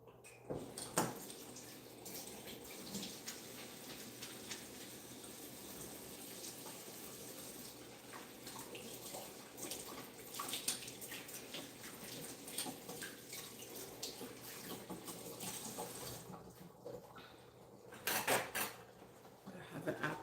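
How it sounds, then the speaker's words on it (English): Kitchen tap running while hands are washed with soap at a sink, a steady splash of water with occasional clinks of dishes and cutlery, close by, and a louder burst of water near the end; no speech. "I'm gonna wash my hands with some soap."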